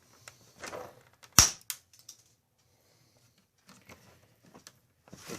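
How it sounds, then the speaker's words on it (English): A single sharp snap as the head is cut off a nail, followed by a few faint clicks and handling noises in a quiet setting. "You need to cut the heads off of these nails."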